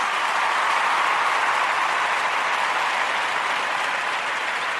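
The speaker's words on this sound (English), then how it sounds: "Let's give them a round of applause." Steady, loud applause from a crowd at a college recognition event for a military-friendly school designation, an even wash of many hands clapping for five seconds without any voices.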